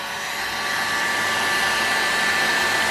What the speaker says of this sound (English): I've got a heat gun to heat this crankcase up to help facilitate getting the bearings out